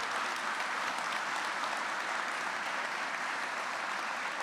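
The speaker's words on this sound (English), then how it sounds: "Please give them a round of applause because we know how hard they work." A room full of people applauds Monmouth County commissioners at a public event, a dense, even wash of clapping that holds steady at full strength throughout with no voices over it.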